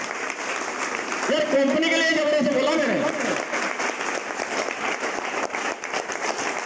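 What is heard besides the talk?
audience clapping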